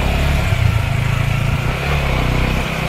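A motorcycle rides through floodwater on a submerged road, its engine droning loud and close with a steady mid-pitched rumble and a slight rise in revs.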